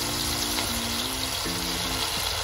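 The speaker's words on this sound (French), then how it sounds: "Je vais incorporer le vinaigre." Vinegar poured into a cast-iron cocotte of Sichuan pepper rabbit, a loud continuous liquid gush and hiss with faint tonal squeals, running steadily and with no talk.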